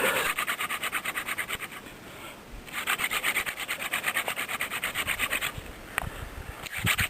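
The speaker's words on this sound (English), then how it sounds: "I'm just going to take this rock that I have and I'm going to twist a hole in here" A rock is twisted back and forth against wood to bore a hole, producing a rhythmic rasping scrape in repeated fast strokes, close and clear, with a short pause before the grinding resumes.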